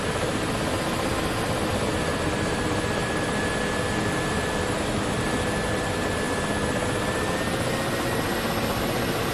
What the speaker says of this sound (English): Hear the strain of the turbines there.